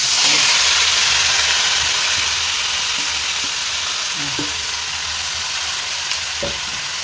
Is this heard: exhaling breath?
no